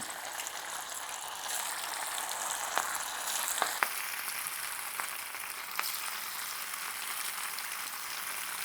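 Fish frying in hot oil for Kerala-style fish pickle sizzles and crackles steadily in a pan, broken by a few sharp clicks of a utensil, at a soft, even level.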